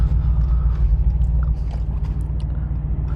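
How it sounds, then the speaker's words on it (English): Deep, steady low rumble from a Mercedes-AMG G63 bi-turbo V8 cruising along a coastal highway, a close, continuous throbbing drone with no talk over it. "That AMG V8 bi-turbo though, still, in my opinion, one of the best sounding engines."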